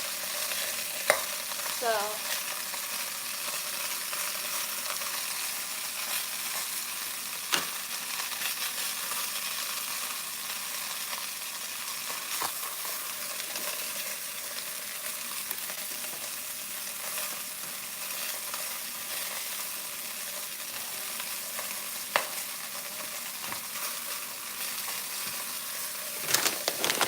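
Food frying in oil in a home kitchen pan, a steady low crackling sizzle running throughout with occasional sharper pops and stirring clinks, heard up close; one brief spoken word near the start.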